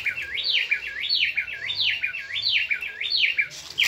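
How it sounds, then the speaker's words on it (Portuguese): A songbird near a river in a forest where monkeys live sings a clear, loud, repeated whistled phrase of rising and falling notes close by, cycling several times over a quiet background. "Acho lindo esse canto das aves."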